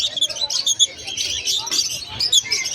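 Pet birds, including pastel green opaline lovebirds at a bird sale, chirp and tweet rapidly in a dense overlapping chorus, with soft coos and murmured talk underneath.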